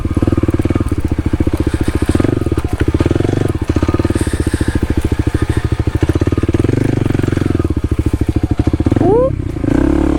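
A Kawasaki KLX300 dirt bike rides a rocky local trail, its single-cylinder engine putting out a loud, steady, close chugging pulse with a brief rev near the end and some rattle from the terrain.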